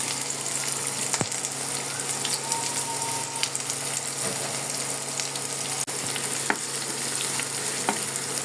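Chopped onions fry in oil in a pan on the stove, giving a steady close sizzle with occasional clinks and scrapes from stirring; no one speaks.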